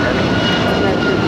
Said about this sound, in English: United Airlines flight 1331. It's a 757-200.